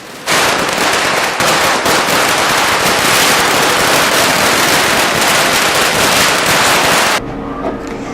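Firecrackers set off by NSUI workers celebrating in Nadaun and Bhoranj, Hamirpur. A dense, loud, continuous crackle of rapid bursts runs for about seven seconds, then stops abruptly.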